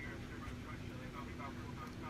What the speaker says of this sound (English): Get that little jet engine in the back. Start it up.